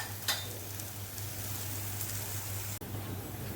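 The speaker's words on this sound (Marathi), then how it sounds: "आपल्याला खरपूस होईपर्यंत हे फ्राय करायचे आहे, त्याच्यामुळे गॅस आपल्याला स्लोच ठेवायचा आहे." A crispy snack frying in a pan over a low gas flame, a steady soft sizzle with a faint background hum, close and even throughout.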